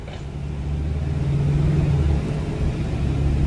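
A 2014 Mercedes-Benz Sprinter 2500 conversion van drives on the road, heard from inside as a steady low engine rumble and road noise that builds slightly, no voices.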